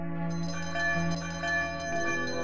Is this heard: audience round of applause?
no